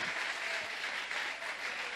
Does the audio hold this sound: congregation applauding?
yes